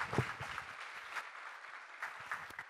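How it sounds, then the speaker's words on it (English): An audience at a retreat class gives a faint, distant round of applause, a soft steady patter of many hands with a few sharper claps rising out of it. "Can we please give them another round of applause?"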